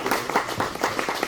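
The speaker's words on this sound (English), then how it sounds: "let's give a round of applause to our artists" Brief burst of applause for artists at a festival Q&A, many hands clapping in a dense, steady patter at close range.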